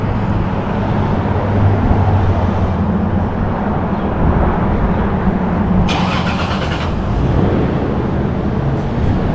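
A car starts up and drives past on a street in a Los Angeles neighborhood, its mid-range engine hum and road noise steady throughout and close, with a brighter burst partway through.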